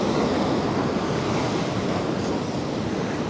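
Big waves crash and surge continuously onto the shore at Paphos on a windy day, a dense, loud roar of surf with wind buffeting the microphone throughout and no voices.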